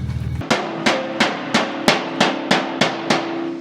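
A hammer taps metal nine times at a steady rhythm in a garage in Ebisu, Japan, each strike ringing briefly, close and clear with no talking.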